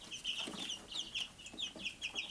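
Bielefelder chickens, a large heavy breed, make soft repeated clucks and short chirping calls, fairly quiet and steady, with no talking over them.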